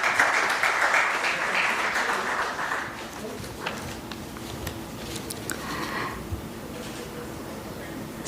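Audience applause at an investiture ceremony for a managing committee, a dense wash of clapping that is strongest over the first three seconds, then thins into scattered claps with faint voices underneath.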